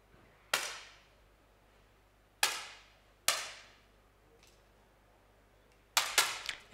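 10m air pistol shots fired in an ISSF World Cup final in Granada, 2013: sharp isolated cracks with short ringing tails, spaced a second or more apart, then a quick cluster of several shots at the end in a quiet hall.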